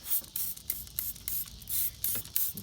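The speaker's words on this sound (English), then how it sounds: "So I'm gonna spray that with this degreaser." Degreaser is sprayed onto an engine belt of a 2007 Honda Odyssey in a quick series of about ten short hissing bursts, close and fairly quiet, with no talking.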